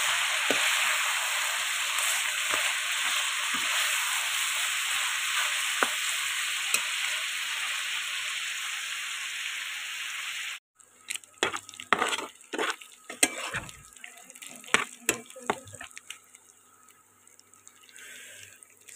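Broiler chicken coated in ginger, garlic and spice paste fries in a pan with a loud, steady sizzle, then brisk stirring brings irregular clattering scrapes over a quieter hiss.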